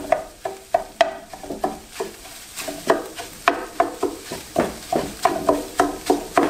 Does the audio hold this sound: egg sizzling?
yes